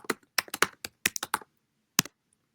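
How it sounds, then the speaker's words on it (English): Short bursts of keystrokes on a computer keyboard, a quick run of close taps followed by a pause and one final key press, with no talking. "I'm just gonna type that in again"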